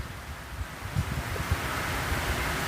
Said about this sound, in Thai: เฮ้ยลมมาเลย